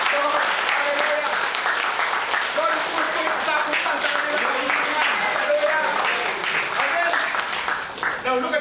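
A church congregation claps for the Lord in dense, sustained applause that fills the room at an even level for several seconds, with voices mixed in beneath the clapping.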